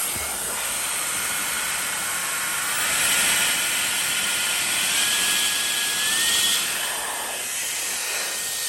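A MECO ELEVERDE ME-CA2 electric compressed air duster blows a loud, steady high-pitched jet of air with a whining motor tone, swelling slightly in force partway through, with no talking.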